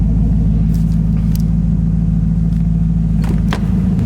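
A Lexus LS400 V8 idles smoothly in a garage after sitting unused for a year, a loud, steady, close low rumble with a few faint clanks in the background.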